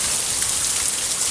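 Heavy hurricane rain from Hurricane Zeta on the Gulf Coast pours off a roof, a close, unbroken wash of dense water noise with no voices.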